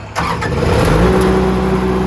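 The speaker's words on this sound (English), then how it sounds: "We'll go ahead and start up the welder here. It starts right up. It is a diesel" A diesel welder mounted on a 2008 International 7300 utility service crane truck cranks and fires up, then settles into a loud, steady, close-up engine drone.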